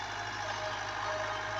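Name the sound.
Fiat 640 tractor engine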